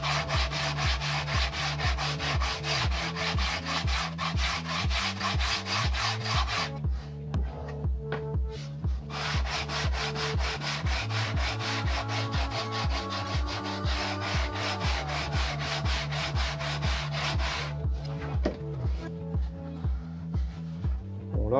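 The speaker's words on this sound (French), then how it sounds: "on finit le reste à la cale à poncer" Rhythmic back-and-forth rasp of a sanding block rubbed over wood on a model airliner tail section, close and steady strokes in a regular beat, with two brief pauses and no talk.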